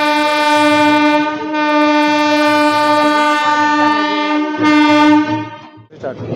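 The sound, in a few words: train leaving Kesinga railway station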